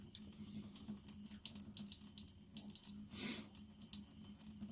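Motor oil drains from both the drain plug and the oil filter of a 2017 Honda CR-V, a close, continuous trickling and splattering stream into a pan, steady throughout.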